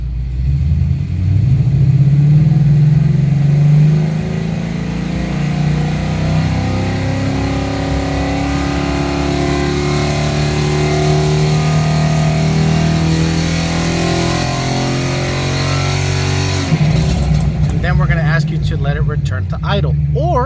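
A car engine revs steadily upward from idle toward about 5,500 RPM in park or neutral, a loud continuous rising drone that drops back near the end, with a voice talking over it.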